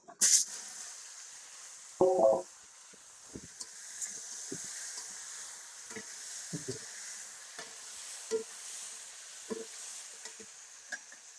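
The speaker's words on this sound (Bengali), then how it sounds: "মাছ ভাজার তেলে বেগুন ভাজা নিতেছি।" Eggplant frying in oil left over from frying fish, a quiet, steady sizzle with a sharp burst near the start and scattered soft scrapes and clinks as the pieces are stirred.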